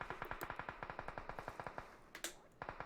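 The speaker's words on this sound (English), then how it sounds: "the other one is taking heavy gunfire right now" Rapid automatic gunfire from the video game PUBG Mobile, sharp repeated shots in fast bursts, close and loud, with a brief pause before firing resumes.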